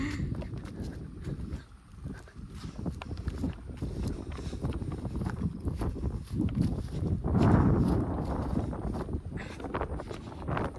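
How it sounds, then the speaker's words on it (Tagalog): Strong wind buffets the microphone continuously with roaring gusts across a rice field, swelling louder midway, with faint rustling underneath. "ala ang hangin guys para ako matatangay ang lakas talaga ng hangin"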